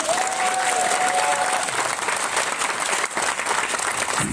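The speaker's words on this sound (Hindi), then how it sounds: "क्या लगता नहीं है आपको कि इनके लिए एक बार जोरदार ताली होना चाहिए?" Loud, vigorous applause from a large crowd at a gathering, sustained throughout with thick overlapping claps and a faint whistle-like tone early on, no speech over it.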